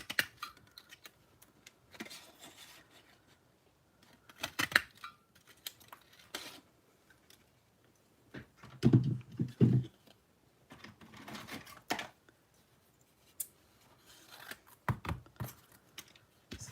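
Scissors snip and trim pattern paper for a handmade card, a run of short, scattered cuts in irregular bursts with quiet gaps, close and crisp, with some light handling clatter between.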